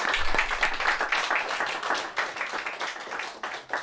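An audience applauds after a Latgalian prose reading event, a dense, continuous patter of many hands clapping close by, steady for several seconds.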